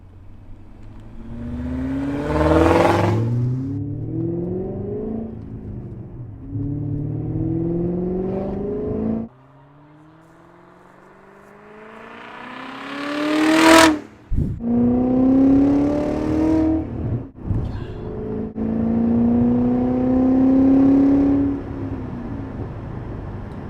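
A BMW 540i V8 with straight-piped exhaust revs repeatedly, each pull climbing to a loud raspy howl before dropping back, with a sharp crackle at the peak of one rev.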